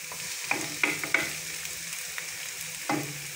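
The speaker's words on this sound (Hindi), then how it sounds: "अब हम लोग इसके अंदर लहसुन अदरक का पेस्ट डाल रहे हैं।" Onions turned light golden brown sizzle steadily in a pot as garlic ginger paste goes in for a chicken handi, with a few sharp stirring clacks of a spoon against the metal over the continuous frying hiss.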